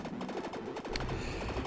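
Rapid repeating gunfire in Konami's Super Nintendo game Super Probotector, a fast regular stream of chiptune shots with a burst of heavier blasts midway, steady and without talk.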